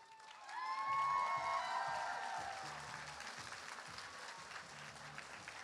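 A costume contest crowd breaks into sustained applause with cheers and whoops, loud at first and then settling into steady clapping, with a few shouts over the top.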